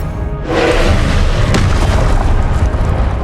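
Confringo explosion spell going off in the Hogwarts Legacy video game: a loud, close boom that bursts in after a brief lull, then rumbles on in a dense roar for several seconds, with no talk.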